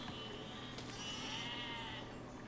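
Sheep bleating in the video game Besiege, a brief wavering bleat rising over a constant busy background of game noise and sound effects.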